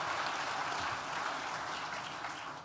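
A large audience at a university graduation ceremony for an art and design school applauds in a dense, steady roar of clapping that fades slightly toward the end.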